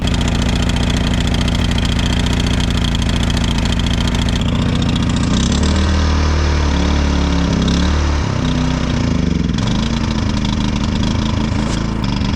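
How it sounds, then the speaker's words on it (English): An old engine runs on choke, loud and continuous for about twelve seconds, settling from a steady idle into a rougher, uneven note partway through with some surging. "now it runs only on choke"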